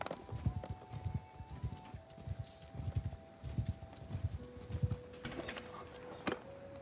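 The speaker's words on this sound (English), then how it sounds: "It was just two pack horses next to each other." Steady clip-clop of horse hooves from a Warhammer video game, Old Realms, in a regular walking rhythm, fairly close, with a faint musical tone humming in the background.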